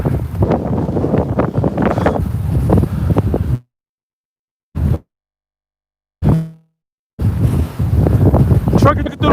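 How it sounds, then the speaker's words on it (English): Strong gusting wind buffets the microphone, roaring loudly with a few abrupt cutoffs and brief bursts in between. "Holy shit, it's windy."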